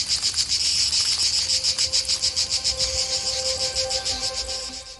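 Cicadas chirring near Lake Balaton, a loud, continuous, rapidly pulsing drone that stays close and constant throughout with no voices.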